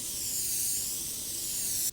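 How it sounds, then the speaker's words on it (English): Spray adhesive sprays in one continuous close hiss onto the back of a laser-cut wood piece, then cuts off sharply near the end. "So I'm going to spray the back of this."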